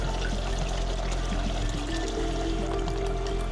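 Two cups of water poured into a pot for a Pakistani chicken pulao, a steady continuous stream with low trickling, fairly close and alone without talk.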